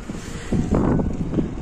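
Wind gusting at the Mărișca mountain pass in Transilvania, a steady rushing roar that swells louder partway through, buffeting the microphone with no talk.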